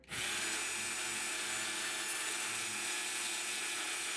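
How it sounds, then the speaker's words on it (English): Sandpaper rubbed against a small lock pin to flatten a burr, a close, steady, even hiss of abrasive friction that holds continuously without pause. "I'm to go ahead and use sandpaper to flatten the burr off of it"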